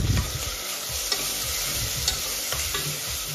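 Spices with salt, turmeric and freshly pounded ginger garlic paste fry in a pan while being stirred, a loud steady sizzle broken by scraping stirs.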